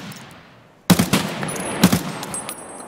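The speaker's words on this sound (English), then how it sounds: "Shot him right in his belly." Gunfire in a video game as a player is shot, a sudden loud burst of rapid shots followed by a few more cracking reports over a couple of seconds.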